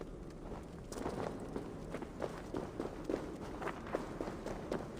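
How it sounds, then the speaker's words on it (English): Footsteps in the video game Assassin's Creed Valhalla, a steady run of quick, moderately loud steps on the ground heard without speech. "Footsteps."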